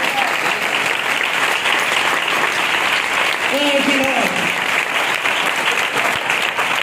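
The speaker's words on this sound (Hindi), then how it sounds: "जोरदार तालियां बजाएं।" A church congregation at a Good Friday service claps loudly and continuously, a dense sustained wash of applause with a few voices calling out partway through.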